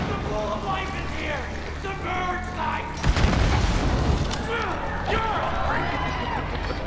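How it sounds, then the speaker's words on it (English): An exploding headshot in the video game Borderlands 3 makes a booming burst midway through dense game noise, with excited talk running over it throughout. "Exploding headshots are back from Borderlands 1!"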